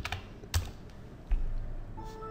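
Quick taps on a computer keyboard as a username and password are typed for a login, a few scattered keystrokes with short gaps, quiet and close.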